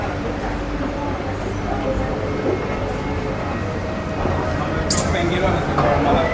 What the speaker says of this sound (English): Train's about to leave.